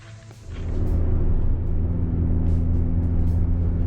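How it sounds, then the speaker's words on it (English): Steady low engine rumble and road noise inside a moving car, rising as it gets under way, then holding constant with no talk. "now we're back in the car here driving"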